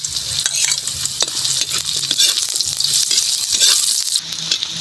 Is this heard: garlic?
yes